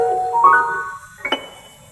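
Piano sounding a minor seventh chord: a few soft sustained notes entering in quick succession and overlapping, then a brief brighter struck accent near the end, fairly quiet and close.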